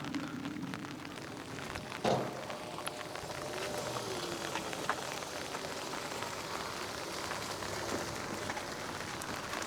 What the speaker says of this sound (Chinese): 现在这里下着大雨